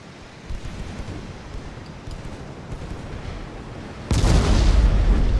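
Main battery guns of a warship firing in the naval game Ultimate Admiral: Dreadnoughts, a low rumbling background of distant booms building to a heavy, loud blast near the end.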